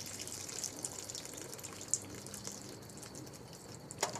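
Water drains from a bucket of washed beeswax in a faint, steady trickle, with occasional soft splashes and drips.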